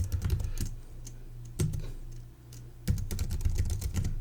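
Rapid clattering keystrokes on a computer keyboard, close and clear, in two bursts separated by a short quiet pause.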